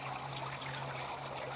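Water pours steadily into a garden stock tank pond, a continuous close trickling and splashing rush with a faint low hum underneath and no voices.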